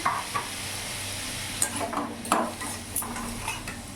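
Spices stirred in a pan for a prawn and papaya dish, with scraping utensil strokes and clinks over a soft, steady sizzle, close by.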